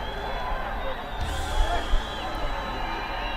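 Cricket crowd at a Nepal versus Qatar ACC Men's Premier Cup match cheering after a catch, a steady roar of many voices with a couple of louder swells, heard from a distance across the ground.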